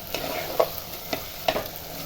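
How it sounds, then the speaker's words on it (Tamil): A spoon stirs greens, garlic and onion frying in oil, with a soft, steady sizzle under a few distinct scraping strokes against the pan, close and fairly quiet, with no talk. "இப்போ ஒரு கலக்கலாம் எண்ணெயிலேயே."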